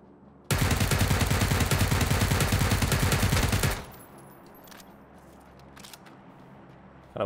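Automatic gunfire in the video game PUBG on the Erangel map during a solo match: one loud, dense, sustained burst of rapid shots lasting about three seconds, then quieter ambient noise with a few faint clicks.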